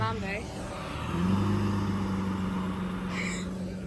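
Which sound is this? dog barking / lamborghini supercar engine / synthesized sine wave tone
lamborghini supercar engine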